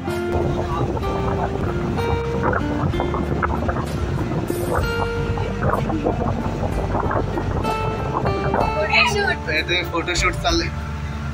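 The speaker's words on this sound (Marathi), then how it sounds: "जेटी पॉइंट आहे ना, तिथून आपली फेरीबोट आता सुटली।" A ferry boat pulls away from a jetty near Veshvi village, with a steady engine drone and water wash under continuous background chatter and some music-like tones.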